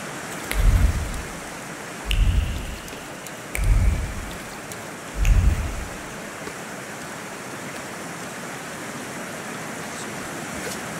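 A steady heavy downpour hisses throughout a nighttime game scene, broken by four deep rumbling thunder-like booms in the first half, then continuous rain alone.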